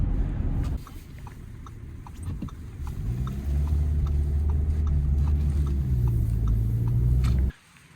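A car driving along a road in Norway, a steady low rumble of engine and tyres from inside the cabin with faint rhythmic ticking, ending abruptly.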